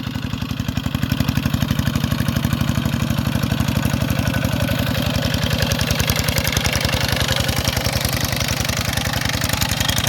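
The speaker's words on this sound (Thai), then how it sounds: "นี่เป็นรถไถเดินตามแบบรุ่นเก่านะครับ" A single-cylinder engine on an old walk-behind tractor chugs loudly and steadily up close while plowing a rice field, with a fast, even thumping beat and no change in pace.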